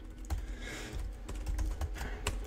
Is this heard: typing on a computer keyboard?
yes